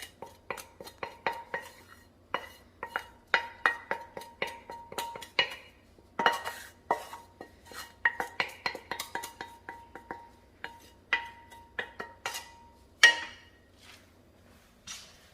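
Dishes clinking and a utensil scraping as cooked food is moved from a pan into a bowl in a home kitchen, a steady run of close, sharp metal-on-ceramic taps and clinks with brief pauses, no talking.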